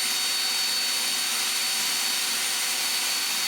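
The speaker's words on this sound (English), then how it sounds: "The blower is louder at about 92 decibels, going up to 96 decibels in turbo mode." A larger cordless leaf blower rated at 500 CFM runs steadily at close range, a loud, constant broadband whoosh of air with a faint whine on top and no pauses.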